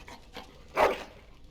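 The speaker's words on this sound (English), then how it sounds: "Bloody dog." A dog in Dragon Age Origins gives a short, faint bark with a soft whimper, heard briefly alone and close by.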